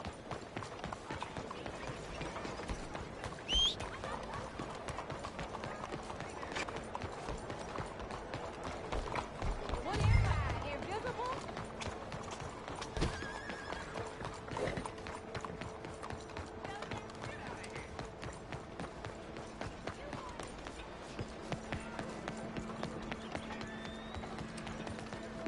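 Hooves clip-clop steadily through a Red Dead Redemption 2 game scene, with a possible brief whinny near the middle, layered under ambient game sounds and some talk.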